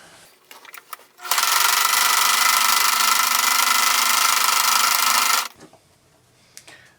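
A sewing machine runs a top stitch along a cloth medieval banner holder, one loud continuous whirring run of about four seconds, close up, with a few faint handling clicks before and after.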